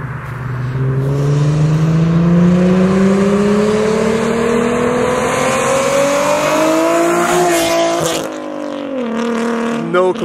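Nissan 370Z/350Z with an aftermarket exhaust revving hard, a loud close engine note climbing steadily in pitch for several seconds before dropping back and rising again, with speech faintly underneath.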